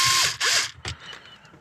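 Powered screwdriver working on a Phillips head screw in a Toyota Hilux dashboard, close whirring bursts with rising and falling pitch, two longer runs then a short final spin, ending in faint quiet.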